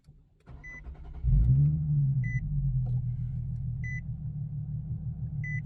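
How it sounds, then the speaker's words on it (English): A Nissan 370Z with a Z1 Level 1 tune and burble exhaust toggle cranks briefly, then fires into a loud, steady idle with a deep rumble, while a cabin chime beeps at regular intervals. "So I'm going to start the car."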